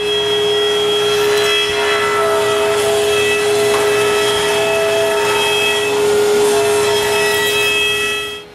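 A table saw blade cuts wood to form combs for interior doors, giving a loud, steady mechanical whine with a constant tone that runs unbroken throughout.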